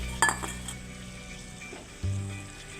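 A lid set onto a cooking pan of pointed gourd in oil and a little water, giving a sharp metallic clink followed by a muffled thud, close by over a faint sizzle.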